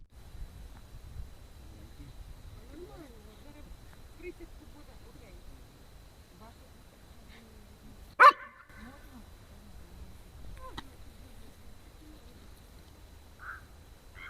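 Dogs barking during National Guard dog training in Rivne, where German and Belgian shepherds are kept. Faint, scattered barks and yips come from a distance, with one sharp loud burst in the middle and low background noise throughout.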